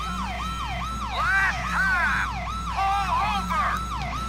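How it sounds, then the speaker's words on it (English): A CHP-style wailing siren on a Crown Victoria police car in GTA IV cycles in steady repeated sweeps, with a second faster yelping tone layered on top midway, loud and continuous over a low engine hum. "I decided to add a CHP authentic siren"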